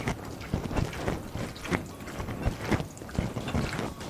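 Steak pieces being stirred into a soy sauce marinade, giving repeated wet slaps and squelches at an uneven rhythm, close and moderately loud with no talk.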